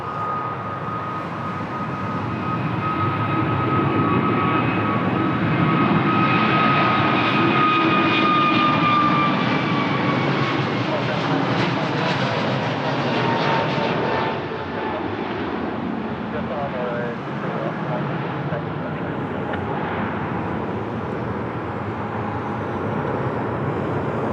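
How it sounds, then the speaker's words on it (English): Airbus A320neo airliner departing Lisbon Airport for Natal, Brazil, its jet engines producing a loud sustained roar with high whining tones that swell mid-takeoff and then ease away. "On the way to Brazil, Natal, Airbus A320neo, long range."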